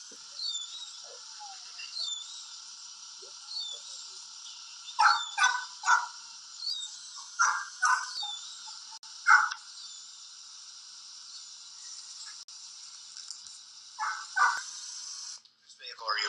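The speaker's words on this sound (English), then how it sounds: "The one that you hear is his friend's dog." A dog barks in short clustered bursts, some doubled or tripled, sounding tinny and recorded, over a steady high-pitched background hiss, with gaps of a second or two between volleys.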